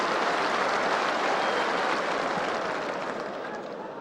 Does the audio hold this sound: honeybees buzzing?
no